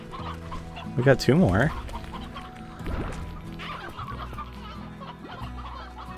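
Chickens in the video game Slime Rancher cluck loudly in a short burst near the start, followed by fainter clucks and game noises, with a person talking over them.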